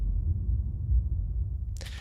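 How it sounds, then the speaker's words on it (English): Deep sub-bass boom from the NUCLEUS sample library, a low rumbling swell that holds and fades, ending in a short sharp click; no voices. "This is a sub from NUCLEUS."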